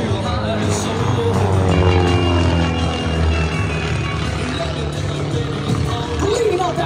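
A Pitts biplane flies aerobatics at the Thunder Over The Sound air show in Biloxi, Mississippi, its piston engine and propeller droning loudly and shifting in pitch as it climbs and turns overhead.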